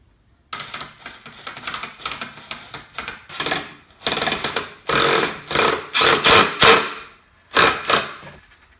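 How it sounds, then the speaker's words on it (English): A power drill whirs in short bursts, starting and stopping repeatedly as screws are driven into a wooden screen-printing frame; the later runs are longer and louder. "You start off by just screwing the screw in"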